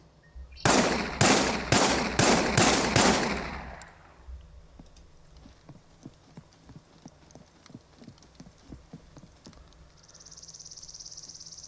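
A Judge 44 revolver firing aimed shots in the Scum video game: five loud, sharp reports in a fast, even sequence, then a quieter run of regular mechanical clicks and a faint hiss near the end.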